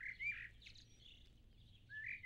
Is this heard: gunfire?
no